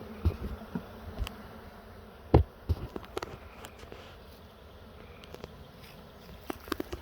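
Wild honeybee swarm buzzing, a faint continuous drone with scattered louder passes of individual bees close by and a few soft knocks and taps, no speech.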